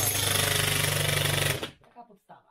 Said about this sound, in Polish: To jest młotek pneumatyczny, czyli najmniejsze urządzenie w kopalni.